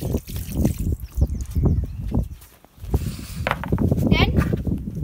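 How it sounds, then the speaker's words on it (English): Soapy water poured out of a rabbit litter tray, a splashing trickle over a few seconds with a brief pause midway, fairly close, mixed with handling noise and some talk. "Pour out the excess soap."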